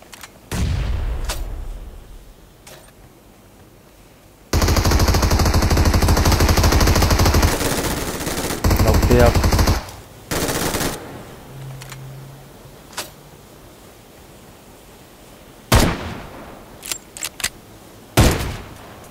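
Bursts of rapid automatic gunfire echo loudly, broken by single sharp shots and quieter gaps, a close-up firefight in PUBG Mobile.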